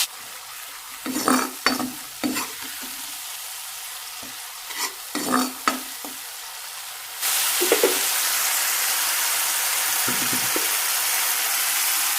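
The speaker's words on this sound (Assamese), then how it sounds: "এইখিনি এটা অকণমান লৰাই পেলাই ভাজি লওঁ পিঁয়াজখিনি অকণমান ৰঙচুৱা ভাজি ল'ম" Onions stirring and frying in a pan, with scraping strokes and a steady sizzle that grows louder and constant in the second half.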